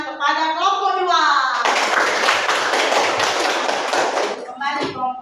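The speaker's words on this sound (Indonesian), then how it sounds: "silakan beri tepuk tangan kepada kelompok 2." A voice speaks first, then a classroom of pupils breaks into brisk, dense clapping for about three seconds before it stops abruptly, followed by a brief voice.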